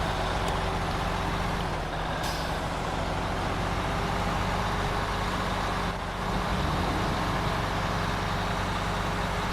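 A Kenworth truck engine in the SnowRunner video game drones loud and steady, a continuous low rumble with brief hissing bursts over the top.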